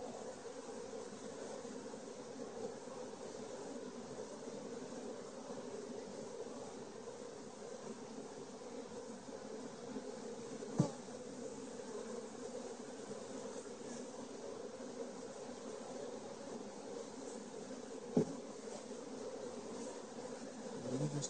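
Honeybees drone steadily around an open beehive, a continuous close buzzing with no voices, broken only by two brief faint knocks.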